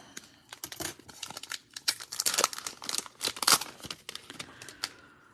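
Foil packs of hockey trading cards being torn open and crinkled up close, a busy run of sharp rips and crackling wrapper noise with no talking.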